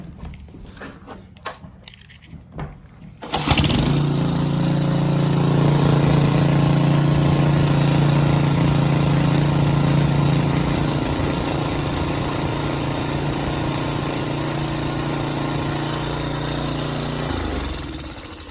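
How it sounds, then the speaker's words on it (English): A garden tiller engine is started and runs at a steady, loud drone up close while its pulley is shined with sandpaper, after a few seconds of quieter handling noises at the start. "I'm going to crank it up and show you how I shine these pulleys up with this sandpaper"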